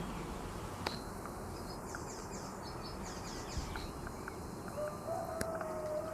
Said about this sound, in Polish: pszczołki, pszczółki bardzo się uwijają